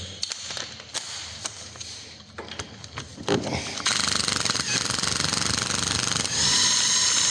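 A corroded control arm bolt on a Citroen C4 Cactus is spun loose with a power tool, first scattered tapping and clanks, then a loud, continuous close-up rattling hammer of the tool running steadily to the end.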